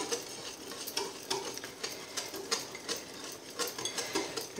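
Flour being stirred into a pineapple cake batter, a steady run of soft scraping and slapping strokes in a bowl, close and continuous, with no talking.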